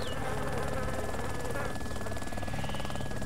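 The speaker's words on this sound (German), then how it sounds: "Da, wo der Heli jetzt ist." A helicopter in a zombie survival video game gives a continuous whirring drone with a buzzing, insect-like edge in the background, steady and unbroken.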